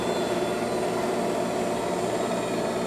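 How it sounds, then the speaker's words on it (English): Parker-Majestic Super-Precision internal grinder running steadily, a constant broadband mechanical hum and whine with no pauses, fairly close and alone. "And that's the Parker ID grinder."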